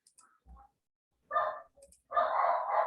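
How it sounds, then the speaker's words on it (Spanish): A dog barks a few times in short bursts, moderately close, with quiet gaps between the barks. "hay un perro ladrando, ¿no?"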